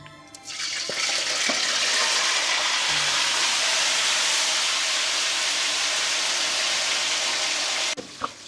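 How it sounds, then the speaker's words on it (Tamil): Chicken pieces hit hot oil for butter chicken, bursting into a loud, dense, close hiss that holds steady for several seconds before cutting off abruptly. "இப்போ எண்ணெய் சூடாகிடுச்சு, சிக்கனை போட்டுக்கலாம்."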